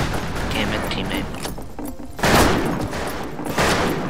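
Rapid bursts of video game gunfire and explosions from a first-person shooter crackle loudly and continuously, with heavier blasts near the middle and end.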